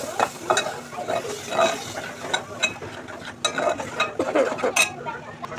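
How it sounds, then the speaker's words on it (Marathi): Ground masala paste hits hot oil already seasoned with curry leaves and spices, frying loudly up close with busy clattering stirring and scraping in uneven bursts over a constant sizzle. "आता हे वाटण घालून घेते तेलामध्ये."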